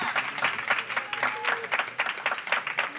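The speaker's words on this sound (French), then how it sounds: "On peut les applaudir, s'il vous plaît" Conference audience at a plenary session in Marseille applauding award winners, scattered uneven clapping that swells and dips in bursts, with a few tonal sounds mixed in.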